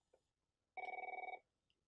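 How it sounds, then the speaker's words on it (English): A Merlin telephone in program mode rings its current ringtone: one short, rapid electronic trill, a burst of fast repeated pulses, loud against near silence. "it constantly rings the current ringtone"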